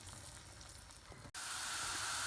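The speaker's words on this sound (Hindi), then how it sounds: "प्याज में तलकर फिर ये ऑयल और प्याज उसमें डाल दूँगी" After a quiet stretch of faint cooking noise, a loud frying sizzle suddenly bursts out as onions hit hot oil, then keeps hissing steadily.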